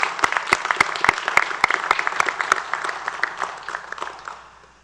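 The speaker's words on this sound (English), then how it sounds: "giving your friends and family a round of applause" Graduation-ceremony audience applauding friends and family at a police academy class graduation, a dense burst of claps that thins out and fades over several seconds.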